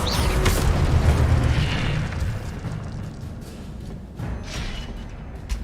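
An Incendio fire spell is cast in a video game, bursting out as a loud, booming, roaring whoosh that fades over a couple of seconds, followed by a second, softer fiery swell.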